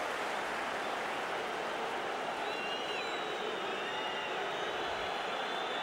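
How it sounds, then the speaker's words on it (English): A football stadium crowd reacts after a goalkeeper's save, a broad, steady roar with scattered applause that stays constant and distant-sounding throughout. "The crowd are responding to the save."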